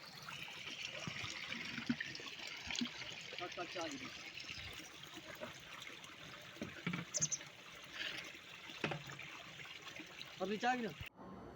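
Water flows from a solar-powered submersible tube well pump in a steady trickling, pouring wash, with a few brief knocks and clicks, sounding close and moderately loud.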